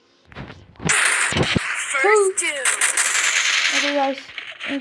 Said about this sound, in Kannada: ಸುಮ್ಮನೆ ಯಾವುದೋ ಗನ್ನು ಸುಮ್ಮನೆ ಒಂದು ಫೈರ್ ಆಯ್ತದೆ, ಅದ್ರಲ್ಲಿ ಎರಡೆರಡು ಬುಲೆಟ್ ಓಪನ್ ಆಯ್ತದೆ